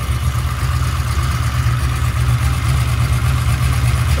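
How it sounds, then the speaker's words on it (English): A 1996 LT1 V8 with Holley Terminator X runs on a test stand without any exhaust, a loud, raw, steady idle with a deep rumbling pulse, close up and uninterrupted. "this is what an engine sounds like. All engine,"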